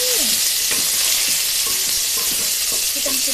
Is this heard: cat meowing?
no